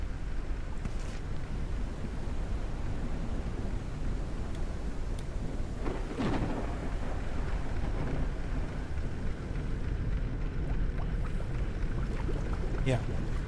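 A windy storm in the video game Forever Skies, with a continuous broad roar of wind and a sharper thunder-like crack near the middle, all fairly subdued.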